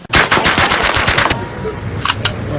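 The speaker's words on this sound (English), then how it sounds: "which makes for a very steady weapon when firing in full automatic mode" An Ingram submachine gun rips off a rapid full-automatic burst of about a dozen loud, close shots. A short pause follows, then two more quick shots.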